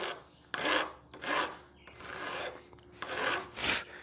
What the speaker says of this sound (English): So let's take a couple of passes with this file and get this big gouge here down first